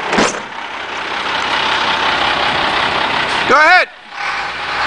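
A Detroit diesel engine on a stake body truck with 30,000 miles runs with a steady, loud, close drone throughout, while a person speaks briefly near the end.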